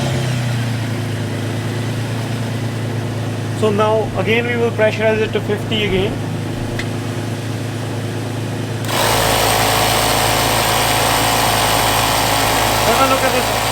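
A pickup truck engine turns over and settles into a steady, loud idle near the microphone, with someone talking over a lower mechanical hum before it starts.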